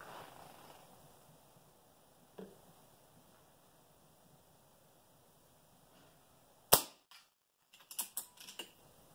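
A Rogue Raptor .25 caliber air rifle fires in quiet surroundings: one sharp, close report, then a quick cluster of smaller clicks and snaps.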